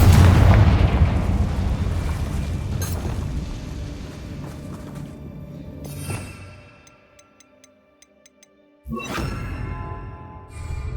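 Spell explosions from Bombarda and Confringo in the video game Hogwarts Legacy, set in a mine: loud booming blasts and crackling debris roll through the first six seconds, fade to near silence, then another sharp burst erupts near the end.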